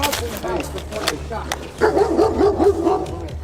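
An aggressive dog barks repeatedly during a police encounter, loud, close yelps and barks in a rapid burst over shouting and talking voices.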